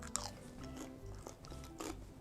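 Crisp bites into crunchy beer-battered cod cooked in an air fryer, a few sharp crackling crunches spaced across a quiet kitchen moment.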